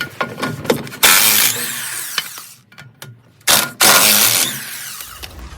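A wrench works the two lower shock absorber bolts (19 mm) on a Mercedes W124 front axle, giving loud, close bursts of ratcheting and metallic grinding separated by short pauses.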